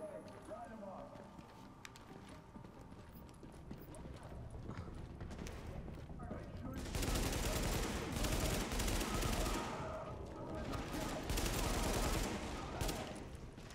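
Gunfire in the shooter game The Division crackles in bursts, louder rattling volleys swelling midway and again toward the end, mixed with game effects and players talking over it.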